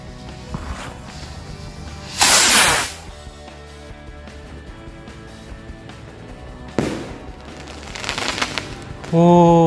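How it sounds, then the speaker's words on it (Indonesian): Jumbo comet rocket firecrackers go off outdoors in two loud bursts of crackling explosions a few seconds apart. Music with a steady beat plays under them and carries on between the blasts. "kita lanjut lagi menyalakan mercon luncur komet jumbo"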